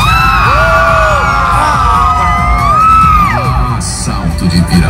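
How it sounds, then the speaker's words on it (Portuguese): A large festival crowd at a rodeo show in Salto de Pirapora yells and whoops loudly and continuously, close and dense, with scattered shouts and cheers rising over the roar. "Gritem mais alto"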